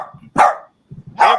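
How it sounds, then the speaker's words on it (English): A dog barks sharply twice up close, with two short loud yaps and low grumbling sounds between them. "He even barked 4 times."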